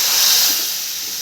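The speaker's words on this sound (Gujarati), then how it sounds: "એની ઉપર જ આપણે એડ કરી દેવાનું છે આ તડકો." Hot spiced tempering poured onto cooked dal sizzles sharply, a loud, close hissing burst of steam that slowly fades over about a second.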